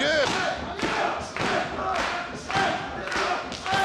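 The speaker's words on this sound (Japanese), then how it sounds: "2人のキックがすごいこのリズムを奏でている" Kicks in a pro wrestling match at NOAH, Nippon Kenpo kicks traded with karate-trained kicks, thudding in a steady rhythm amid a clapping arena crowd, with a commentator talking throughout.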